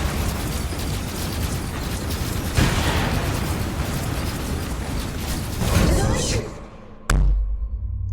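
A fire trap erupts with a sudden burst in a video game gauntlet, a sharp bang followed by a dense roaring, crackling blast; game noise and busy sound fill the background throughout.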